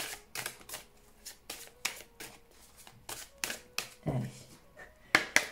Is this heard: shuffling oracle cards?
yes